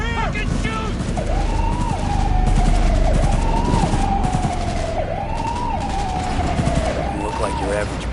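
Rapid gunfire bursts from the video game Cyberpunk 2077 ring out over a wailing police siren, loud and continuous, with a voice shouting in the mix.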